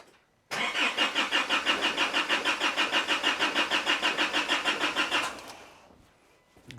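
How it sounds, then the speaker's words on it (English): An Isuzu D-Max diesel engine cranks with its injectors disconnected and never fires: a rapid, even starter-motor churn runs for about five seconds, then cuts off and winds down, close and loud. "see what happens when I crank the engine"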